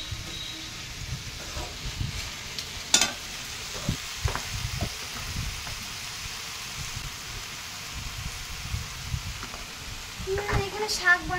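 Red amaranth greens frying with garlic and onion over a wood-fired stove, a continuous hissing sizzle with occasional clatters of stirring and pan knocks, steady throughout and louder bursts near the end.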